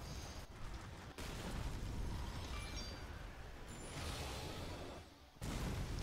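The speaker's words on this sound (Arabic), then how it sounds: "انفجار هائل" A huge explosion in the Monster Hunter Stories 2 video game, a loud, dense roaring blast that rumbles on for several seconds, briefly breaks off, then surges back.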